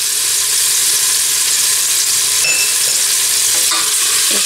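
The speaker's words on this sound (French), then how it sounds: "Et je continue à remuer pendant 1 minute." Browned veal pieces dusted with white flour are stirred in a hot pan, giving a loud, continuous sizzle broken by scraping spoon strokes.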